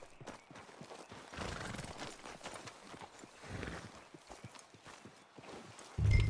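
Horse hooves clip-clop at a steady walking rhythm in Red Dead Redemption 2, close and moderately loud, with occasional snorts and a louder burst at the very end.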